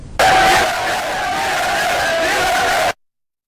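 A large crowd cheering and shouting in the streets of Conakry, Guinea, a dense, loud, sustained roar of many voices that cuts off abruptly.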